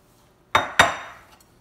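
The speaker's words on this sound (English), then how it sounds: "So now I'm gonna put in the sauerkraut" Two sharp metallic clinks ring out close together as sauerkraut is added to a cooking pot for Hungarian unstuffed cabbage rolls, each one fading quickly in an otherwise quiet kitchen.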